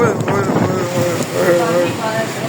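Storm wind gusting at a village house as a sudden rainstorm begins, a steady loud roar with a voice speaking over it.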